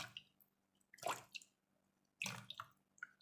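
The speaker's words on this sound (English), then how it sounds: "Into that, I'll add in my water." Water poured into powdered fillers for laundry bar soap, two short splashy pours separated by silence, close and fairly soft, with small drips trailing after each.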